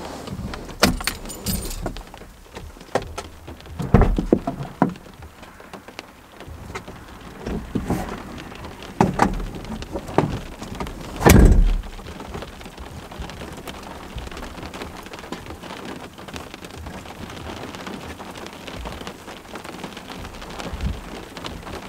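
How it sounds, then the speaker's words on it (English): Steady rain patters and hisses on surfaces close by, with a few sharper knocks and a louder rush near the middle; no one speaks. "It's starting to rain even more"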